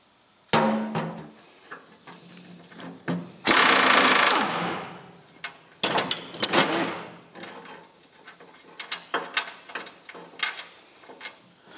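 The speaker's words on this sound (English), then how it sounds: "some of those bolts are so badly corroded, so I will have to cut them, and for that I'm using a very thin cutting disc" A very thin cutting disc cuts through badly corroded bolts while fitting new side steps to an old rusty vehicle, heard as short harsh grinding bursts, one longer loud rasp, and scattered clanks in between.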